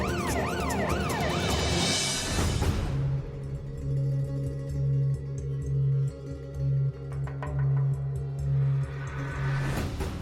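A police siren wails outside a house during Diwali, its rising and falling tone repeating steadily at moderate distance over a low background hum, with no talking.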